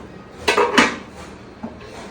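A heavy pot holding a five-kilo meat biryani is lifted off the stove, giving two sharp metallic clanks close together, then a softer knock a moment later.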